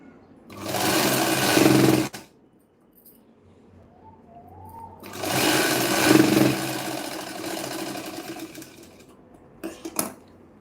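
A sewing machine stitches a blouse shoulder strip in two bursts, the first about a second and a half, the second around three seconds, with a quiet gap between and a brief final whir, loud and close.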